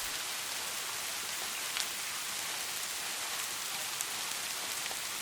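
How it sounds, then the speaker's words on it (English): Steady rain falls at night, an even hiss of dense drops with occasional faint individual ticks, continuous and alone without any voices. "The rain persisted, a haunting backdrop to the mysterious encounter."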